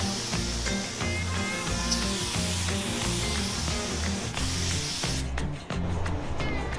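A spray gun lays base coat paint on an offroad limo, a loud continuous close hiss with short pauses and a brief break near the end.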